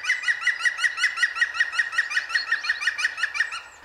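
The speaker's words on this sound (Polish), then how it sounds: "W Polsce mamy kilka gatunków dzięciołów i potrafią one wydawać także zwyczajne odgłosy" A Polish woodpecker gives its ordinary call, a rapid run of about twenty loud, evenly spaced sharp chirping notes, clear and close with no background noise.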